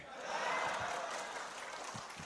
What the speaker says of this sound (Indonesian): Tepuk tangannya keras lagi.